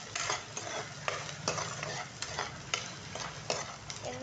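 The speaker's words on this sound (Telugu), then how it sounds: "ఇంకొద్దిగా ఆయిల్ కూడా వేసుకొని కొద్దిగా సాల్ట్ వేసుకోవాలి. ఇది కొంచెం ఫ్రై అవ్వాలి." Carrots and vegetables stir-fry in oil with salt in a pan for egg fried rice, steady sizzling broken by regular scraping strokes of the spatula, close and fairly quiet.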